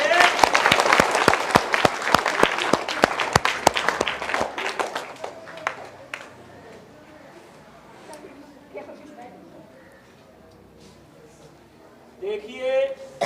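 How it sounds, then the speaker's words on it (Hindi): Schoolchildren clap together at a morning assembly, a dense burst of applause that fades after about six seconds into quieter background chatter, with a brief rise of voices near the end. "सफल संचालन के लिए इन लोगों के नाम पर ताली बज जानी"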